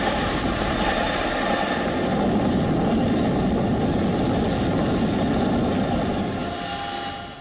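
Boeing Chinook heavy-lift military helicopter in flight, a steady loud rumbling rotor drone with a throbbing low beat, continuous and fairly close, easing off slightly at the end.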